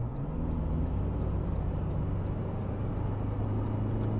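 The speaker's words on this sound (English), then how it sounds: "Now I am going to quickly do an overtake, so let me put my foot down." A Toyota Land Cruiser Prado accelerates to overtake, its engine and road noise forming a steady, moderately faint drone heard from inside the cabin, with a rising engine tone and no talking.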